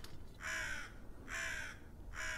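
A bird in the Tick Tock: A Tale For Two video game gives three loud, harsh caws in even succession, each about half a second long, over a faint low background hum.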